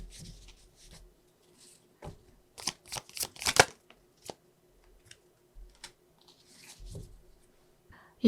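Tarot cards shuffled and drawn during a Korean tarot reading, heard as scattered soft slides and brief papery riffles, with one louder burst of flicking midway and quiet pauses between.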